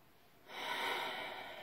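A long, breathy exhale during a bellydance exercise starts halfway through, swelling to a steady rush of air after near-silence and then easing off slightly.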